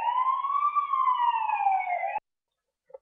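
An emergency vehicle siren from the video game GTA1 wails with a steady, looping electronic tone for about two seconds, then cuts off sharply into silence, followed by a faint brief blip.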